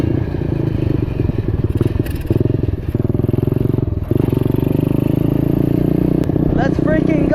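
An old $60 pit bike engine running while being ridden, a loud close buzzing drone with slight bogging dips and clattering mechanical noise, and a voice talking over it.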